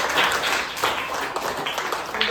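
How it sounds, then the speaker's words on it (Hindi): Audience clapping at a Guru Nanak Gurpurab celebration, a dense, steady patter of many hands lasting a couple of seconds with a faint murmur underneath. "साजन के लिए एक बार तालियां बजा दें"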